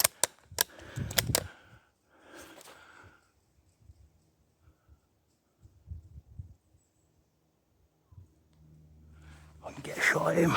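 Sharp, loud shot cracks from a squirrel-shooting outing, a cluster of several quick reports early on, followed by quiet rustling and low murmured voices, with more noise building near the end.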